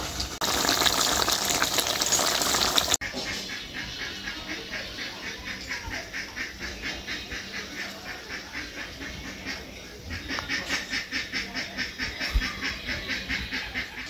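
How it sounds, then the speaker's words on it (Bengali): Paneer curry bubbling in a pan on the stove, a steady close wet simmer with popping bubbles, louder and harsher in the first few seconds, then a continuous rhythmic burble to the end. "পনির দিয়ে 2-3 মিনিট খুব ভালো করে এবারে ফুটিয়ে নেব।"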